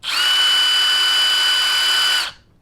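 A Milwaukee M18 Fuel Gen-3 18-volt half-inch compact impact wrench with friction ring runs at high speed in mode 3, a loud steady high-pitched whine held for about two seconds before cutting off abruptly, with no talking.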